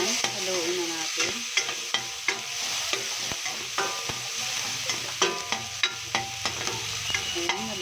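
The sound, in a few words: stirring sautéing onion, garlic and tomato in pan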